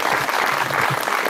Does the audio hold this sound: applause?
yes